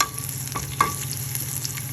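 Turmeric stirred into hot tempering oil gives a brief, close sizzle and hiss with a couple of quick scraping strokes and a single sharp tap partway through. No one speaks.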